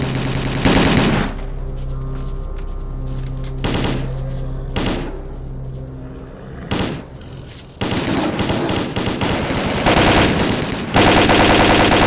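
Gunfire in S.T.A.L.K.E.R.: Call of Pripyat: loud single shots and sharp bursts at first, then sustained rapid automatic fire, with a low hum between volleys.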